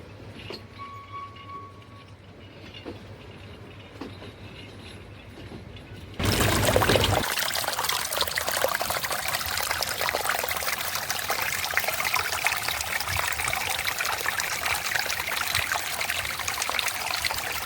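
Elgin waterfall in Sri Lanka's hill country: after a quieter opening of faint trickling, a loud, continuous rush of falling water takes over and holds steady, with no voices.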